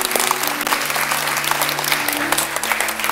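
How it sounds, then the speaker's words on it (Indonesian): Church congregation at an Easter service applauds a woman with steady, dense clapping throughout, a low sustained tone running underneath. "Boleh tepuk tangan dong untuk tantenya"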